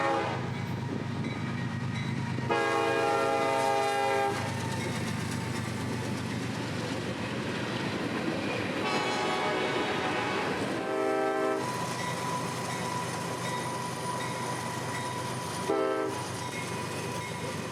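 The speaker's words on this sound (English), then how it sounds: "It's around 1 p.m. this day, and the normal time for train M452 to go through." Freight train M452 passing in Florida around midday, a steady loud rumble of rolling cars with several blasts of a multi-tone horn, two long and two short, sounding throughout.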